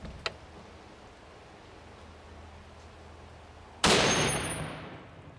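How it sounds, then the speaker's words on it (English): A single loud, sharp crack of a Barrett .50 BMG rifle round striking a titanium plate, arriving suddenly after quiet outdoor ambience and decaying over about a second and a half. "It's just a Barrett 50. I don't know if you guys heard of it. Shoots a 50 BMG, kind of a big bullet."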